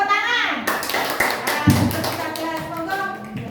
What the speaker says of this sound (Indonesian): Oh, tepuk tangan.